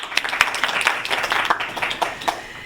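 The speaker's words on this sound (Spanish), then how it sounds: "Por favor, un fuerte aplauso." An audience applauding a speaker at a talk on microplastics and pesticides, a brief burst of scattered, fairly close hand claps that thins out toward the end.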